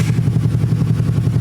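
A small Honda Navi motorcycle engine idles steadily at about 1300 RPM, a close, loud, even low putter with a fast rhythmic pulse and no speech.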